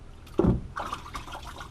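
A water pump part from a Gould piston pump is swished up and down in a bucket of water, giving a brief splash followed by softer sloshing and trickling, quiet and close.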